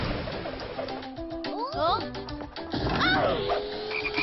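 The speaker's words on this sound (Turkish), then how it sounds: "Kurbağalarım, ah hayır kurbağalarım." Frogs croaking in a Turkish children's cartoon, a quick burst of warbling, bubbly croaks in two clusters, close and moderately loud.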